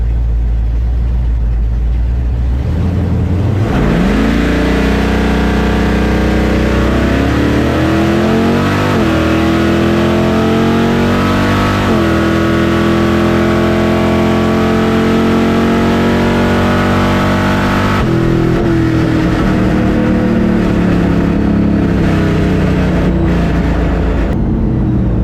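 A supercharged small block Chevy engine revs hard and loud at close range, climbing in pitch through repeated throttle pulls, holding near the top, then dropping back and rising again.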